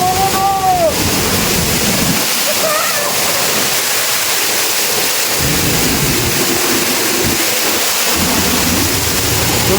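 Durgapadu waterfall on the Andhra–Odisha border pours in a loud, unbroken roar of rushing water, a dense wash close by with a brief voice early on.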